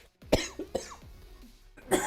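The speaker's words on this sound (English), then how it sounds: "Sorry for the cough." A man coughs several times close to the microphone, three or four sharp, raspy bursts spaced irregularly with brief quiet gaps between them.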